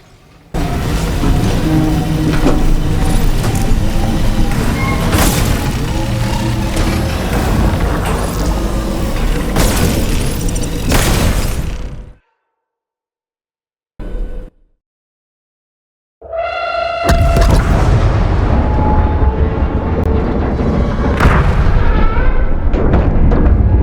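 A big bomb explodes in the video game Planet of Lana II, a loud, sustained blasting rumble that cuts to near silence, then a brief burst, and a second heavy roar that returns.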